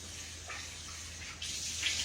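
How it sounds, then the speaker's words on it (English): Tap water runs into a big cooking pot in a home kitchen, a steady close hiss that swells noticeably louder partway through, with no talking. "we're going to take this big pot and rinse it out and put some water in it"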